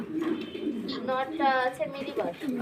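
Mundi pigeons on a farm give soft, rolling coos close by, one after another in a short burst, while a person speaks over them.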